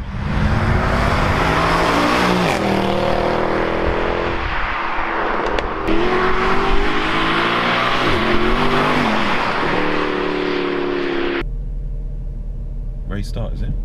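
A Mercedes-AMG C63 heard from outside, its engine roaring loudly through repeated revving and gear changes, close and continuous, with people talking under the noise near the end.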